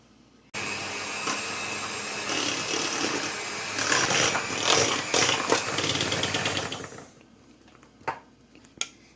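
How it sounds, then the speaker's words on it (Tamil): An electric mixer whirs as it blends whipped cream with chocolate ganache for a dream cake, a steady loud motor drone for several seconds that then stops, followed by a few light knocks. "விப்பிங் க்ரீமில் சாக்லேட் கனாஷ் சேர்த்ததுக்கு அப்புறமா நல்லா மிக்ஸ் பண்ணிக்கலாம்."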